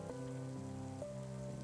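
Rain falls as a faint, steady patter beneath sustained low droning tones, the texture unchanging and quiet through the short stretch.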